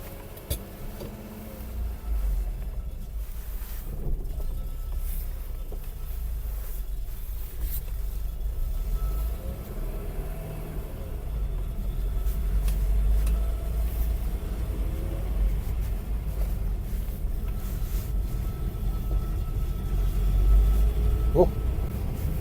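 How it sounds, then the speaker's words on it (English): A 2000HF car driving around the block in Edinburgh gives a steady low engine rumble and road noise from inside the cabin, rising slightly mid-drive, with occasional small knocks and no talking. "Quick drive around the block."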